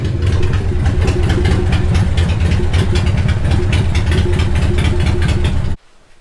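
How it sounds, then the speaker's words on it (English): A 1989 Harley Davidson EVO Softail Custom with a newly changed clutch runs at a loud, steady, lumpy idle. The engine pulses rhythmically for nearly six seconds, then cuts off abruptly into near silence, and no one speaks. "I'm finally going to be able to fire up the bike, see if this clutch is working."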